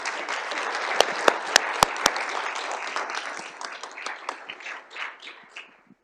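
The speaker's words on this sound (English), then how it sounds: "can we get another round of applause for Arkel, please?" Audience applause at a health and data technology conference, a full crowd clapping steadily with a few sharp, louder claps near the start, then thinning and fading out toward the end.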